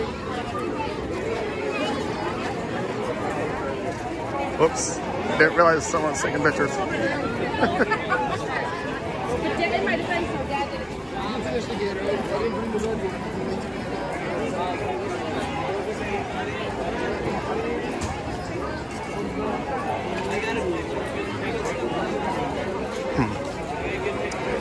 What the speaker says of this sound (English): Let's get through this crowd.